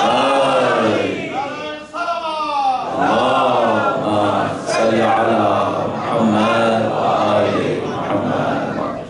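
A crowd at a Muharram majlis in Singapore chants religious slogans in unison: loud, close, overlapping voices rising and falling in repeated call-like phrases with brief dips between them.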